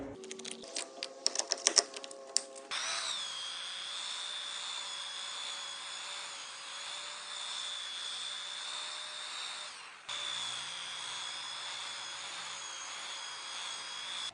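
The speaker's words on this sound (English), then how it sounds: "Now we'll move on to the next most aggressive, which is this wire wheel." Wire wheel on a power tool scrubbing old wood boards: a brief rattle of bristles on wood, then a loud, steady high-pitched whine and scrubbing hiss that continues close up with a short dip partway through, no talk.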